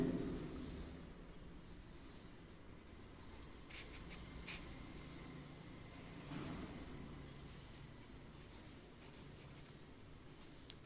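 Pen or marker writing numbers during a class 5 maths lesson, a long soft scratching and scraping that stays faint and steady with a few slightly louder strokes, with no voices.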